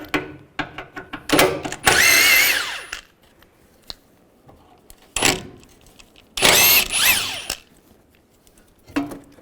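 Power tool with a 13mm socket removing bolts from the A/C condenser of a 1998-2010 Volkswagen Beetle. Two long, loud whirring bursts are separated by quieter clicks and clanks of handling parts.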